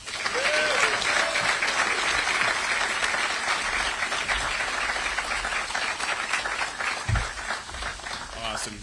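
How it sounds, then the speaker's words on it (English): Sustained applause from a crowd welcoming a new UNLV football coach and honoring the university president, steady dense clapping throughout with some cheering and voices mixed in. "one more round of applause for UNLV President Keith Whitfield"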